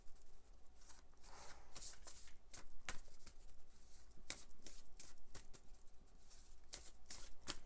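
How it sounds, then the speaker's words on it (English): A tarot card deck is shuffled up close, giving repeated rapid riffling and flapping bursts of cards against each other, with no talking. "what we're going to do is shuffle this deck"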